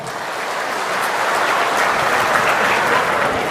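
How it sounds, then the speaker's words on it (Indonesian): Dense, steady applause from a large audience at an Indonesian government ministers' event, a continuous wash of clapping lasting several seconds with no talk over it. "Tepuk tangan untuk kita semuanya."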